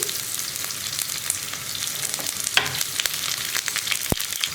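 Mustard seeds popping and round-sliced shallots frying in hot oil for a tempering, a steady close sizzle with scattered sharp pops and crackles, no talking.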